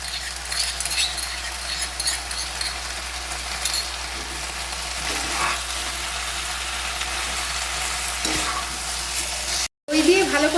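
Chicken sautéing in whisked yogurt and oil in a pan, giving a steady, close sizzling hiss with occasional stirring scrapes throughout, briefly cut off near the end.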